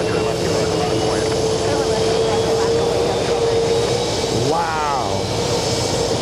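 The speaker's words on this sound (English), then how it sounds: "We have a Delta A330 Neo taking off" A Delta A330neo jet taking off at JFK airport, a loud, sustained engine roar close by with a rising whine near the end, and a person briefly exclaims over it.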